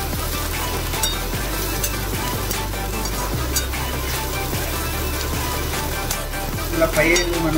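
Sweet corn and tofu paneer frying in a pan, a loud continuous sizzle with occasional stirring scrapes, steady throughout and briefly busier near the end.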